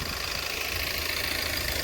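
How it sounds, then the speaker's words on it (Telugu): A car engine idles steadily just after starting, a constant low rumble with a faint knocking texture and no voices. "ఇప్పుడు మన ఇంజన్ స్టార్టింగ్లో ఉంది"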